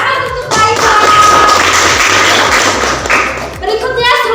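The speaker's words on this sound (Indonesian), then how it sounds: "Kita tepuk tangan untuk Kak Ira." Classroom applause during a lesson, a burst of clapping hands from students lasting a few seconds, fairly close and loud, with some voices and thumps mixed in.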